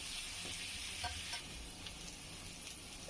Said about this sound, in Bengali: সামান্য একটু হলুদ দিয়ে আলুগুলো ভেজে নিব।